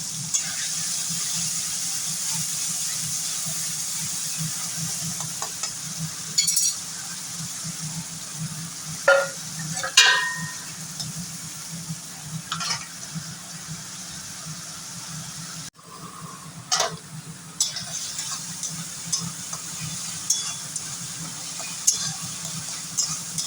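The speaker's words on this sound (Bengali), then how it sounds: "সুন্দরভাবে কিন্তু পেঁয়াজ রসুনটা কষানো চলছে" Onion, garlic and tomato paste cook in hot oil with dry chilli, bay leaf and cumin, a faint, steady sizzle broken by scattered stirring scrapes and clinks, heard close with no talk.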